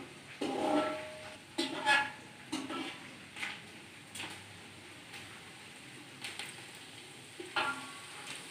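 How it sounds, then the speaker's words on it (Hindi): Chopped medium onions cooking in a pan, soft steady sizzle punctuated by several sharp stirring scrapes of a utensil against the pan, close by with no one talking. "प्याज को सुनहरा होने तक पकाएंगे।"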